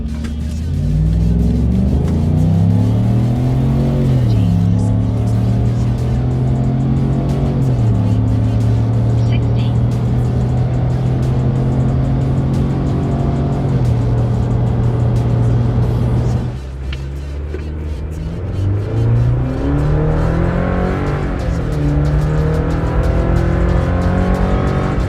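Chevrolet Colorado AEV Bison and Silverado pickup trucks accelerating hard from 0 to 60, a loud, steady engine drone climbing through gear shifts with a brief drop near the end before revving up again.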